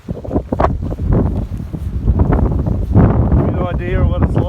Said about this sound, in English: the wind just keeps blowing it off